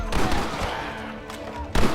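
Gatling gun firing in Red Dead Redemption, a dense continuous roar of rapid shots, loud and close, swelling again at the end.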